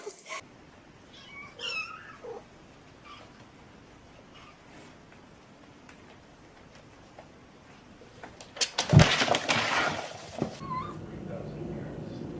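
A cat meows a few times in short, thin cries, mostly early on, then a loud clattering scuffle breaks out near the end, with people talking intermittently.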